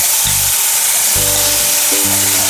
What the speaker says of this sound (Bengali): কেটে রাখা পেঁয়াজ এবং গাজর কাটা দিয়ে দেবো একসঙ্গে